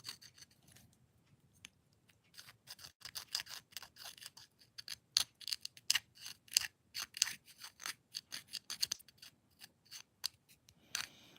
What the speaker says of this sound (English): So I'm just going to take the knife. I'm quickly just going to scrape around the edges.